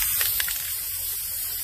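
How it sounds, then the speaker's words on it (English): White spray paint hisses from an aerosol can onto a spiderweb, a short steady close spray with a couple of brief puffs at the start. "So, I'm just gonna take some white spray paint,"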